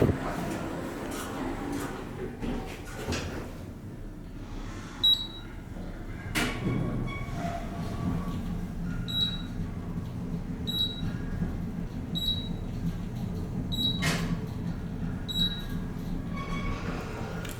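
A steady low mechanical hum runs throughout, with faint clicks and a couple of brief thumps; a KONE traction elevator motor, sounding worn, drones quietly in an enclosed space at a hotel in Orlando, Florida.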